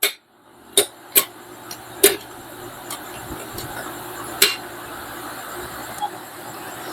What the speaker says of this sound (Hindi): तो आइए इसके पूरे गियर्स को अभी चेक कर लेते हैं कि ये गियर गिर रहे हैं कि नहीं।